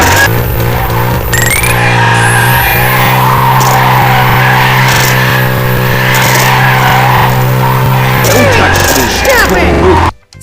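Cars race in a mobile battle-royale-style racing game played offline against bots, with steady layered engine drone, tire squeal and skidding running nearly continuously for about ten seconds, loud and close, with game music beneath, then cutting off abruptly.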